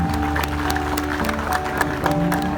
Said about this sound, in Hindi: सभी लोग मिलकर के और दिल से तालियां दें